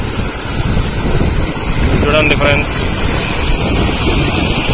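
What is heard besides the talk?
heavy floodwater flowing over a bridge after rainfall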